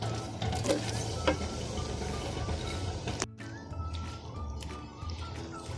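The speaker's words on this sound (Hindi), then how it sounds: "एक मैंने कढ़ाई ली है और ये देखिए मैं इसमें ऑयल डाल रही हूँ। ऑयल डाल दिया मैंने, इसमें प्याज डाल दूंगी मैं अब।" Chopped onions frying in hot oil in a kadhai, a steady close sizzle with light stirring scrapes and a sharp clink partway through, continuing softly afterward.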